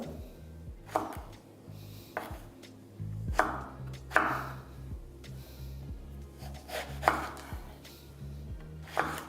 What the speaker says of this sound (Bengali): এরপর কেটে নিচ্ছি বেগুন।